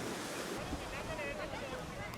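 Surf washes onto the beach at Laem Samila, a near, steady rush of breaking waves with wind buffeting the microphone.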